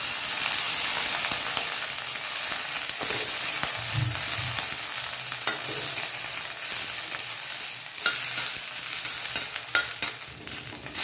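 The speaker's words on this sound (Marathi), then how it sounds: "यामध्ये आपण ही लगेच गवारीची शेंग भाजून घेणार आहोत" Cluster beans roasting in hot oil beside green chillies, a dense steady hiss of frying close by, with occasional light taps and scrapes of the spatula.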